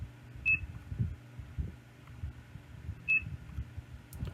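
A Freefish alarm clock speaker gives two short, sharp electronic beeps a few seconds apart as its alarms are toggled, over low thumping handling noise and a faint background hum.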